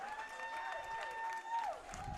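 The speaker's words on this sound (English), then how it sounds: "Getting a nice ovation from the Calhoun crowd on our side." A crowd applauds and cheers at a high school football game after a tackle on the quarterback, a steady, fairly distant wash of clapping under a sustained tone.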